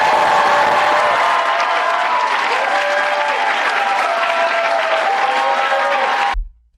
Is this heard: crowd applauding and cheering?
yes